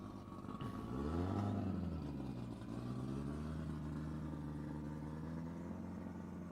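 A supercharged gas modified roadster engine runs at Speedweek 2024, sounding faint and distant as it revs up to a rising, droning pitch, then settles into a steady mechanical hum.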